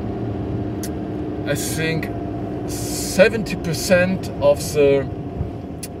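Low, steady engine drone inside the cabin of a VW 1303 Beetle in German Look style, running continuously beneath people talking throughout.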